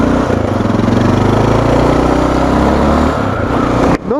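A Honda NX 650 Dominator motorcycle idles close by, a steady low chugging pulse that dips briefly near the end.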